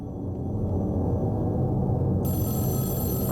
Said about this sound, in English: Unless that's the phone downstairs ringing.